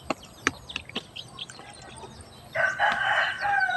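Chickens at feeding time: a few sharp pecking clicks and soft clucks at first, then a rooster crows loudly and close in the last second or so.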